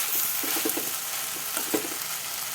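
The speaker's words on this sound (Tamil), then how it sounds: "இதை போட்டுட்டு நல்லா வதக்கி விட்டுடுவோம்" Onions, tomatoes and coriander sauté in a pan with a steady, close sizzle, punctuated by a few soft stirring scrapes.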